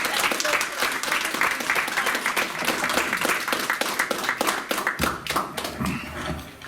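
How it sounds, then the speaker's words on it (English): An audience at a Rabindrajayanti celebration at the Indian Consulate in Perth bursts into sustained applause, many hands clapping with some distinct close claps, which thin out near the end. "I know you guys have been waiting to give that big applause"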